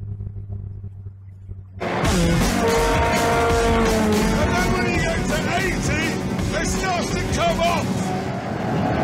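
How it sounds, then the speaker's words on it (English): A car travelling at about 70 mph bursts in after a quiet lead-in, its loud engine roar and squealing tires filling the rest of the clip with a dense, sustained rush while voices sound faintly underneath. "And this car at only 70 miles per hour."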